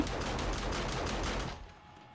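Rapid bursts of gunfire ring out in the zombie survival game 7 Days to Die, a dense string of shots for about a second and a half before cutting off into a quiet tail.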